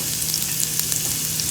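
Garlic frying in a pan on a stove set to medium heat for curry chicken, a steady close crackling sizzle with small pops and no talking.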